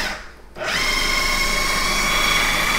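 A kitchen chopping machine whirs up to a steady, loud motorized drone as it minces cassava leaves with a little added water, holding an even pitch throughout after a brief quieter start.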